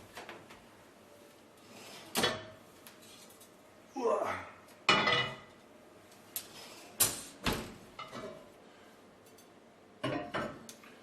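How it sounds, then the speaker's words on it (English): A preheated pot brought out and handled for baking spelt artisan bread, with clanks and knocks of metal and a lid, plus scraping, coming in separate bursts over soft background noise. "Here comes a preheated pot."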